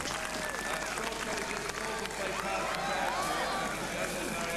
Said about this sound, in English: So Rolf Goltz, very happily, puts on the yellow, a very proud moment for any rider, and takes the applause of the Cork crowd.